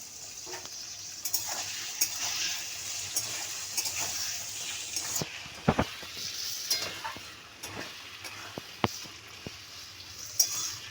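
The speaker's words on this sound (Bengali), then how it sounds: "আদাটা একটু ভাজা ভাজা হোক" Chopped ginger sizzles in oil in a pan while a Bengali banana-flower and shrimp curry with coconut is cooked, giving a steady close hiss with occasional utensil clicks and scrapes and no talking.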